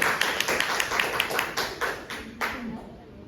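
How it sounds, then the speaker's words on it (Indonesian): A group gives a brief round of quick, close-miked hand clapping that gradually thins out, with people talking over it. "Tepuk tangan lu"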